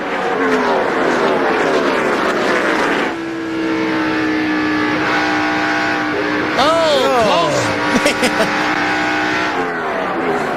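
NASCAR stock cars racing at the 2002 UAW-GM Quality 500, loud roaring engines with rising and falling pitch as cars pass close by, continuous and dense, with a brief screech midway.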